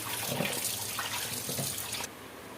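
Aloe vera gel pieces are rinsed under a running tap, with water splashing and sloshing close by until the flow abruptly stops near the end.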